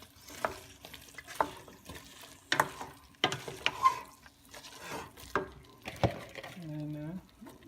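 Cauliflower pieces are stirred into saag meat frying in a pan: irregular scraping strokes and clatters over a low sizzle, close by, ending with a short voiced sound.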